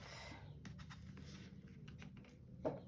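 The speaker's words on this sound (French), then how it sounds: "Donc on marque bien ici le pli." Paper is creased along a fold, giving quiet scraping and brushing rubs in short strokes, with a small sharper tap near the end, faint and close.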